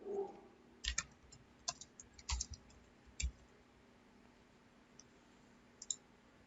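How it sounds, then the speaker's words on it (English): Typing on a computer keyboard while entering an address, heard as a few quiet, scattered clusters of clicks with long gaps, faint against a quiet room. "Type in that address."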